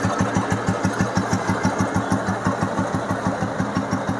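A restored old Bullet Deluxe motorcycle engine idles steadily with an even, thumping beat, close by and moderately loud, with no voices.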